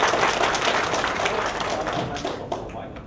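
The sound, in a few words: audience applause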